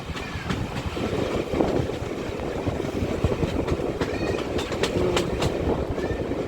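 The steam locomotive Odney Manor runs on the West Somerset Railway with a loud, continuous rumble and rhythmic wheel clatter on the rails, close to the microphone.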